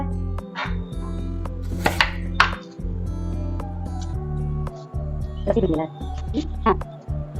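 Ingredients are chopped for green sundakkai (turkey berry) chutney, with a few separate knife strikes on a board rising briefly over a steady low background hum.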